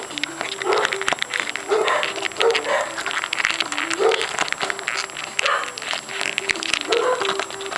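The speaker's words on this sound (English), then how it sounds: "My dogs are barking." Several dogs bark in repeated bursts throughout, fairly loud and steady against a busy background with no clear talk.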